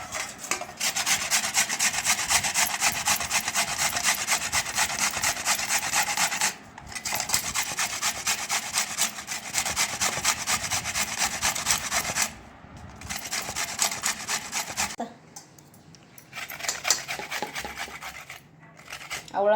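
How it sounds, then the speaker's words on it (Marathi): Peeled beetroot is rubbed against a hand grater in a steady, close, rhythmic rasping that continues for long stretches, broken by a few short pauses. "बीट छिलून झालेलं आहे, याला आता आपण किसून घेऊ।"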